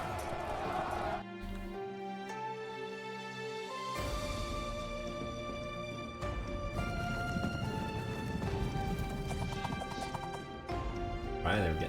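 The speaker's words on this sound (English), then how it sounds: "Ah, the horses again." Horses gallop with steady clip-clop hooves and an occasional neigh in the Sengoku Jidai: Shadow of the Shogun battle game, set under constant musical score and busy combat noise.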